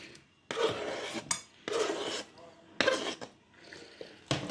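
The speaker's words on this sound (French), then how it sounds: "Et après, on mélange la viande." Meat for skewers is mixed in a bowl, giving repeated wet rubbing, squelching strokes in rhythmic bursts, close and fairly quiet.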